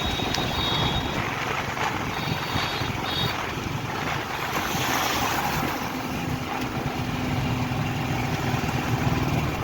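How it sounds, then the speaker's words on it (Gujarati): An auto rickshaw engine runs steadily near Bet Dwarka, a continuous close rumble that stays constant with no talking over it. "રિક્ષા બેઠા"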